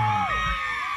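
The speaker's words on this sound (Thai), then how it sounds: "ขอเสียงกรี๊ดกับครูบีทุ่งครุประชาธิปไตยหนึ่งทีครับ" A crowd at an acoustic live concert screams and cheers, high-pitched shrieks and whoops blending together in a loud burst that holds for about a second.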